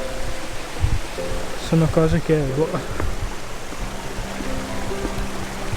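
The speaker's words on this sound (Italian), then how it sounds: "c'è dell'acqua che scorre dappertutto" Water flows all around in Torres del Paine park in Patagonia, making a steady, even rush that fills the whole scene while someone talks briefly over it.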